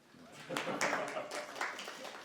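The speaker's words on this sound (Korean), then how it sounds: "박수 치십시오." A short burst of scattered hand claps rises and fades at a political party leadership meeting in Korea as a visiting party delegation is introduced, with individual claps standing out rather than a full ovation.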